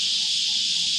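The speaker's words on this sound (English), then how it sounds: "You can hear the cicadas in the background." Cicadas drone steadily in the background during a topwater fishing session, a constant high buzzing hiss that never breaks and sits at a moderate, even level.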